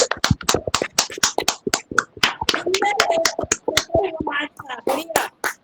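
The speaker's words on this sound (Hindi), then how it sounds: "जोरदार तालियां हो जाए आज के हमारे योगाचार्य के" A crowd at a yoga session claps for the yoga teacher, a loud run of sharp, rapid, uneven handclaps, close and continuous, with some voices mixed in.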